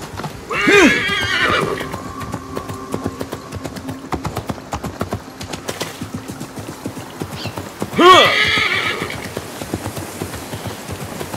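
A horse in Assassin's Creed Mirage gives two loud neighs, one at the start and one near the end, with rapid clip-clopping hooves running steadily between them.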